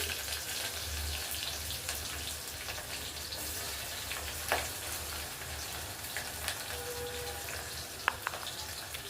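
Onions and green chillies frying in a pan for a fenugreek and tomato curry, a soft continuous sizzle with a few faint clicks and stirring taps, fairly quiet and without speech.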